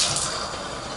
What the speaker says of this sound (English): Let's check the water pressure real quick.